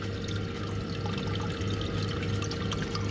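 Water trickles steadily in the sump of a 250-gallon reef tank fed by a peristaltic pump, a soft continuous splashing over a low, constant equipment hum.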